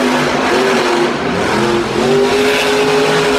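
Monster trucks race head-to-head in an arena at a Monster Jam event in Brussels, their loud engines revving and droning with rising pitch, close and continuous, with no talk over them.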